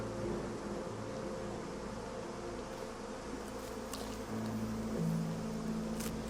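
Bees buzz in the fantasy role-playing game Divinity: Original Sin II, a faint, steady drone with a couple of brief louder swells and no speech.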